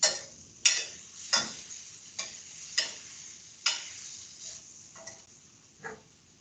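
Ground beef browning in a pan for shepherd's pie, with a soft steady sizzle under a series of sharp scraping and stirring knocks about every half second to second, close and fairly quiet.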